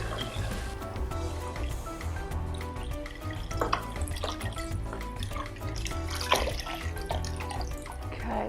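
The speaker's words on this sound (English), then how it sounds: "I'm going to add this water." Water pours steadily into a pot of plant-based winter soup, a continuous liquid splash and trickle that sits close and fairly quiet, with no talking over it.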